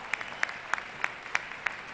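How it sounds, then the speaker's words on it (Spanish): Sparse applause rings out at an award ceremony for a technology fair, with about six separate distinct claps spaced evenly and fairly faint, like a small audience clapping slowly. "Y el aplauso para ellos."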